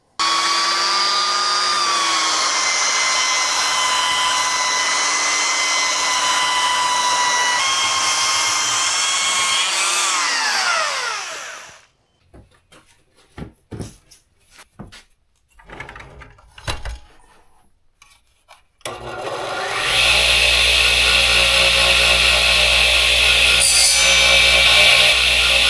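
A router cuts hinge notches into a wooden door jamb during a rotten-jamb repair. It gives a loud, steady high whine for about eleven seconds and then winds down. Scattered clatter follows before the motor roars back up.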